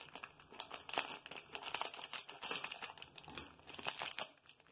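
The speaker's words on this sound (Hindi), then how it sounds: "और इसमें से इसके नूडल्स को हम बाहर निकाल लेंगे" Plastic Maggi noodle packets crinkle and rustle as the noodle blocks are emptied out, a close, continuous crackling with dense sharp crunches and no talk.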